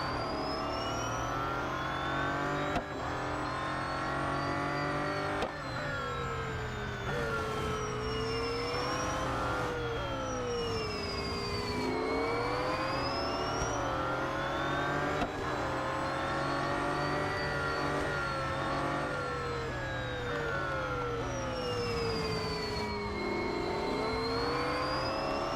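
Car engine in the Real Racing 3 racing game, revving continuously with rising and falling pitch as gears shift, loud and up close throughout with no speech over it.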